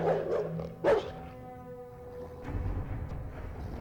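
Dogs bark in a dramatic TV horror episode excerpt, a couple of sharp barks close by followed by a low growl and rumbling, with a tonal musical hum running underneath.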